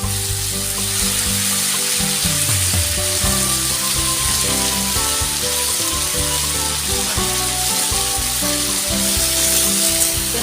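Tomatoes frying loudly in a pan during preparation of a jujube dish, a dense, steady sizzle close up, with faint stirring scrapes mixed in.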